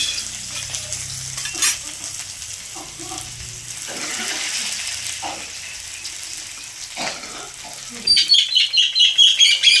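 Onion and green chili frying in mustard oil in a pan, a steady soft sizzle with occasional stirring scrapes, close by, with a brighter crackling burst near the end.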